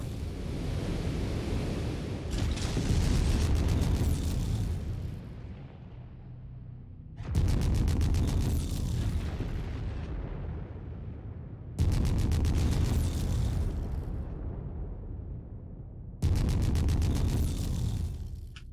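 Explosions from mechs being destroyed in the MechWarrior 5 video game: four or five loud, booming blasts arrive every four to five seconds, each one swelling suddenly and then fading into a long, rumbling roar.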